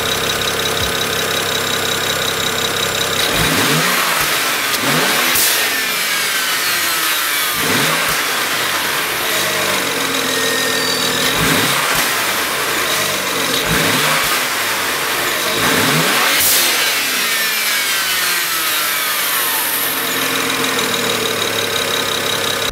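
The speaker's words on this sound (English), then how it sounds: "So as you can tell by those free revs" A BMW N54 car engine with an aftermarket charge pipe and blow-off valve is revved repeatedly in the open, several sharp climbs in pitch that fall back each time, loud and close, with no talking.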